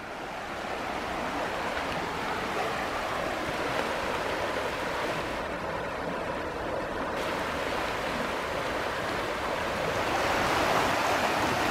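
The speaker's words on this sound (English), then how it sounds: "And this creek is really starting to move." Fast-moving creek water rushing beneath the North Pole Road Covered Bridge near Ripley, Ohio, a continuous dense roar, close and steady throughout with no voices.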